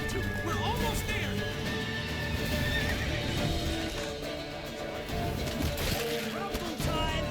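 Horses gallop and neigh in The Witcher 3 video game, rapid hoofbeats clattering throughout with whinnies rising above a busy mix of combat noise and shouting voices.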